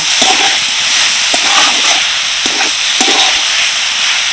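Vegetables with chopped coriander are stirred in a hot frying pan, producing a loud, hissing sizzle with regular scraping strokes of the spatula spaced about a second apart, and no voices.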